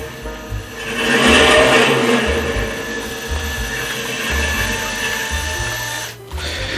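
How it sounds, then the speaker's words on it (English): A 1/4 scale model Ford Mustang V8 engine kit revs with a small mechanical whir and rattle, a steady buzzy, motor-like drone, swelling briefly and then settling, close by. "It's got that great V8 sound."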